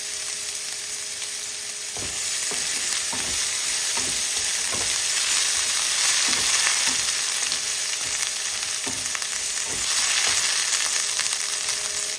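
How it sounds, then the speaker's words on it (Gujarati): Ginger, chili and garlic paste fries in hot oil over a medium flame, a steady close sizzle broken by a series of soft stirring scrapes at irregular intervals, with no talking. "આપણે એની અંદર નાખીશું આદુ મરચાં લસણની પેસ્ટ અને આપણે ગેસ કરી દઈશું મીડિયમ"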